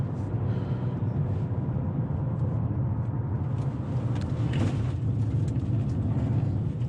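A 2021 Chevrolet TrailBlazer driven through S-curves in sport mode, with a steady low engine and road rumble heard from inside the cabin, continuous and fairly loud.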